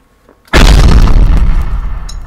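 A powerful cannon in the physics sandbox game People Playground fires once with a sudden, loud, deep boom that rings out and slowly decays.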